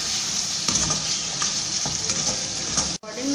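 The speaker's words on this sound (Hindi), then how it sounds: "इसको भूनेंगे।" Bone-in mutton sizzling and being stirred in a pan for bhuna gosht, a dense, loud frying crackle with scraping stir strokes before a brief sudden break.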